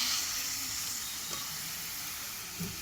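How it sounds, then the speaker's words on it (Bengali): Greens frying in a pan with poppy seeds and peanuts give a steady, close hissing sizzle that runs without a break, with a few faint stirring scrapes near the end and no talking. "আর দেখো পোস্ত ভাজা হয়ে গেছে, বাদামটা খুব সুন্দর ভাজা হয়ে গেছে।"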